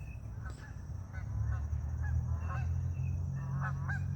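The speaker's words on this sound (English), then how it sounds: "Got some geese flying over." Several geese honk repeatedly in short bursts while flying over outdoors, calls fairly distinct over a steady low background rumble, no talking.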